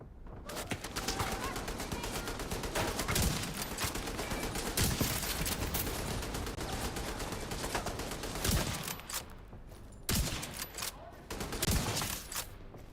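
A machine-gunner enemy in an online open-world shooter game fires sustained bursts of automatic gunfire, dense and continuous with brief gaps near the end, while a voice talks faintly underneath.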